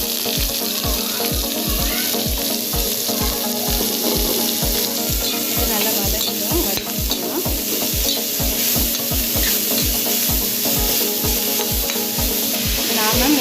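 Chopped onion and urad dal fry loudly in a pan for a Tamil radish fry, with a steady sizzle under rhythmic, evenly spaced stirring or scraping strokes, close up and without talk.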